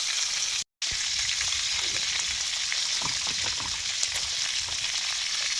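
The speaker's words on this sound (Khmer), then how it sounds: "តោះឥឡូវយើងយកវាមកដាក់បំពងក្នុងខ្ទះខ្លាញ់ក្តៅ" Rice field rat meat deep-frying in hot oil in a pan, a loud, continuous crackling sizzle with scattered pops, heard close and alone, broken only by a brief dropout near the start.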